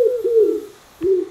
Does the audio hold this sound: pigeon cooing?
yes